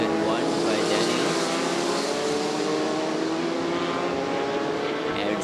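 Formula 4 race cars in the 2017 Southeast Asia series roar around the circuit with a steady, dense engine drone and shifting pitch as they approach a turn, with commentary running over the top.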